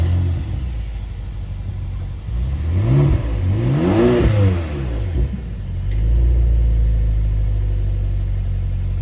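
A BMW car engine revs up from idle with a rising and falling surge, then settles back into a steady, loud, close rumble.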